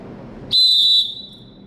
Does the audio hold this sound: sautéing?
no